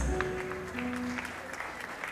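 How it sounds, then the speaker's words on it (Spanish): Scattered clapping from a small crowd, steady and moderately faint, with a sustained musical tone underneath. "Venga el aplauso, gente linda"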